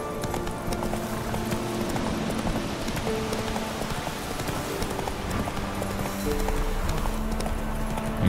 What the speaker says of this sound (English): And now we actually want to ride a horse.